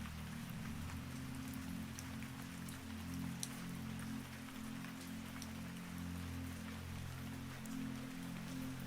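Steady rain falls on a surface, a soft continuous patter of drops with a few sharper ticks, heard alone at low volume over a faint low drone.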